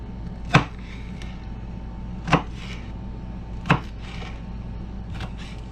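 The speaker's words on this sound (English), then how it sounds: "We're just going to come back and give them a little chop." Four sharp knife chops on a cutting board cut through peppers, spaced about 1.5 seconds apart, each a crisp close thud with a faint low hum underneath.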